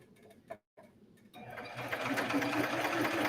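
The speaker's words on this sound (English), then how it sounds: "I'm going to top stitch this seam here for a little sportier look with the cover stitch" A cover stitch sewing machine top stitches a seam on leggings. After a few quiet ticks and a short pause, a close, steady mechanical whir starts and holds to the end.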